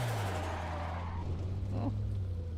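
A car engine drones steadily at close range during drifting practice, with a low continuous hum and a brief tire-like squeal rising near the end.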